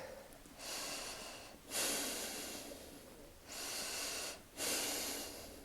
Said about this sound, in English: a minute of breathing, 6 breaths a minute, do each side